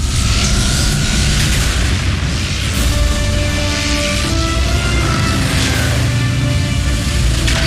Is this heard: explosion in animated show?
yes